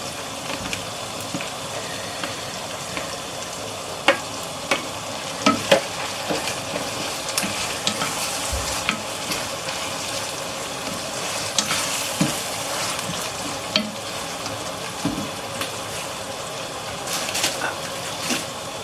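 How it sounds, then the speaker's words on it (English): Tomato frying in a pot for okra soup, a steady close sizzle with stirring scrapes and small pops running throughout, no voices. "And then I'm going to add the tomato."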